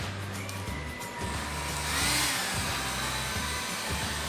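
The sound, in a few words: hair dryer blowing on hair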